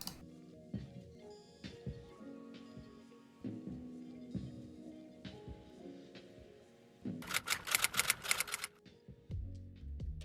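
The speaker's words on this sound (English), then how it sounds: "paper type, HP photo paper, output quality, high quality, and now we can hit print" An HP inkjet printer at home prints on HP photo paper at high quality: mechanical clicks, whirs and carriage shuttling, then a burst of rapid, loud ticking near the end, with no talk.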